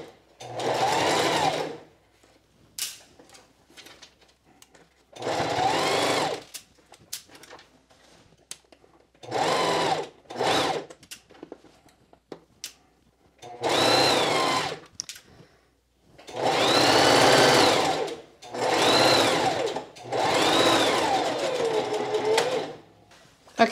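A sewing machine stitches in repeated runs of several seconds each, a steady mechanical whir broken by short pauses.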